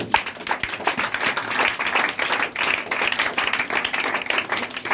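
A church congregation claps and applauds together, a steady, dense patter of many hands lasting throughout without pause.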